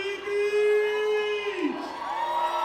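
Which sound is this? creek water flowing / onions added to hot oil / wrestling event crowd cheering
wrestling event crowd cheering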